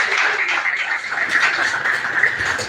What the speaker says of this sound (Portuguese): as palmas que exaltam o nome do Senhor Jesus